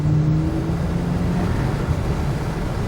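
An Audi S5 with a DSG gearbox accelerates, its engine giving a steady, loud low roar with a rising tone early on, heard close without talk.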